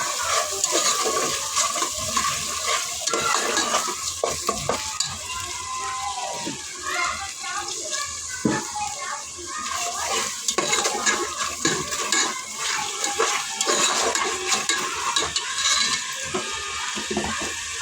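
Curry being sautéed and stirred in a pan, with steady sizzling and repeated scraping and clattering strokes close by throughout, under occasional talk.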